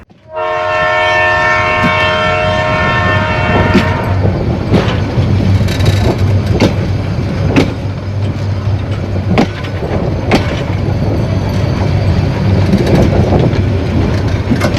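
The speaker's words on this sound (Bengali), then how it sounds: "হর্ন দিয়েছে, ট্রেন ছেড়ে দেবে" Train horn blasting loudly for a few seconds on the Burimari Express from Dhaka to Patgram, followed by the rumble and rhythmic clatter of the train pulling away, close and continuous.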